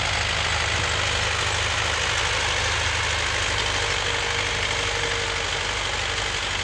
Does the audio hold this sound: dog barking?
no